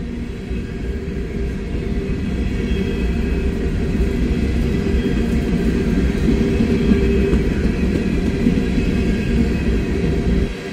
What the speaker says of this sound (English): Empty grain train, that's what this is.